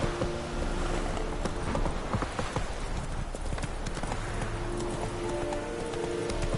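Hooves of the horse Roach in The Witcher video game, a rapid, steady clip-clop of galloping hoofbeats that runs continuously and fairly close over a low rumbling game ambience.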